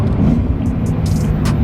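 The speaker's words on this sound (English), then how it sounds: "That exhaust sounds so good." BMW E90 M3 V8 engine breathing through an Akrapovic exhaust, a loud, steady low rumble that fills the whole moment, close up, with no pauses or talk.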